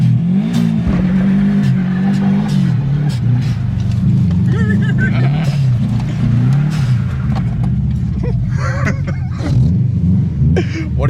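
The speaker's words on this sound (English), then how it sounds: "I went through the snow first, so the tires were a little wet, so she spun right away" A Subaru WRX revs hard close by as its tires spin on snow, a steady loud engine drone rising and falling in pitch with people talking over it.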